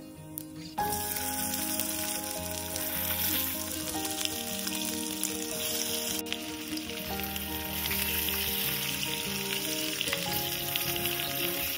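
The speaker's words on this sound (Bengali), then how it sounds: "আলুটা একটু ভেজে নেব" Boiled potatoes fry in oil with whole dry chilli and cumin for doi aloo dum, a continuous close sizzle running under steady background music, with no voices.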